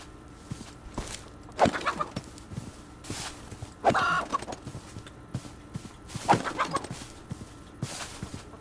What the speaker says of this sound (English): There's a lot of chickens here.